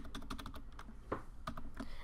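Fingers type text on a computer keyboard, a close rapid string of clicky keystrokes with a slightly heavier tap near the middle.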